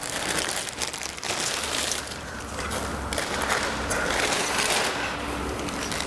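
A plastic bag is handled and crinkled while setting up a 3x3 pop-up exhibition display stand, giving steady close rustling and crunching that runs throughout with no talk.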